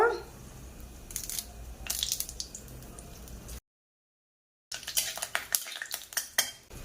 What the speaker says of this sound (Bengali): কড়া গরম হয়ে গেছে, তেল দেব, কিছু ফোড়ন দেব, এলাচ লং কাঠ, এবার কারি পাতা দেব